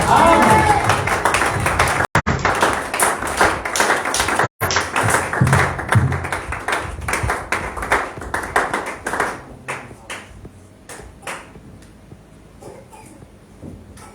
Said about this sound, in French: Acclamons une fois de plus.